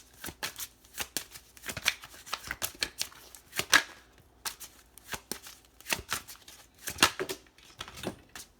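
A tarot deck is shuffled by hand, with rapid crisp riffles and flicking card slaps repeating steadily, close and fairly soft.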